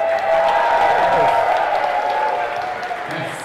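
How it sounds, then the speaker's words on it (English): Crowd of climbers at a climbing gym finals event applauding and cheering together, a dense sustained burst of clapping and whoops that tapers slightly toward the end. "Cheer if you climb."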